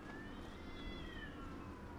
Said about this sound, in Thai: เสียงแมวร้องหรือเสียงเด็กร้องวะแมวมั้ง